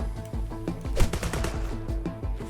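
Shotgun blasts ring out in a video game, a rapid series of sharp, loud booming shots fired close together over about two seconds, with no talking.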